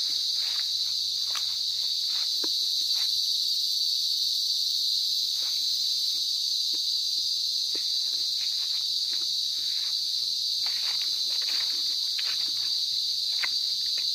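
Insects drone continuously on a farm lot in Magdalena, Laguna, a steady high-pitched buzzing chorus with scattered faint ticks and rustles underneath and no talk.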